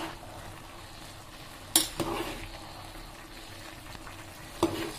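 Biryani being stirred in a pot with ghee: a quiet low simmer and sizzle underneath, broken by a couple of sharp scraping clinks of the spoon against the pot.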